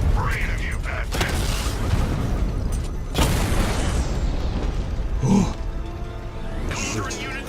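A destroyed machine explodes in a Batman video game, with several heavy booming blasts spaced a few seconds apart amid clanking mechanical noise and a voice talking in between.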